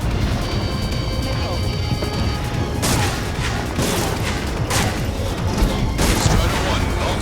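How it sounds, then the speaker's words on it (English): Explosions and a missile launch roar through an aerial dogfight in Ace Combat 7, a dense, loud barrage of bursts and booms with sharp impacts recurring every second or so. "Strider 1, missile launched."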